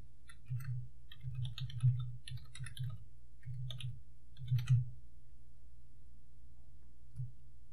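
Soft mouse clicks sound close and faint during computer work: several separate dull taps, a double tap near the middle, and then one last isolated click, with no talk.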